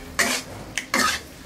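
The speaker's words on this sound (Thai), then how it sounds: "ใส่ตับหมูลงไปได้เลย แล้วก็ผัดให้เข้ากันนะคะ" Pork liver is stir-fried with garlic in a pan over low heat, heard as two or three quick, close scraping and sizzling strokes of a spatula in short bursts, with no voices.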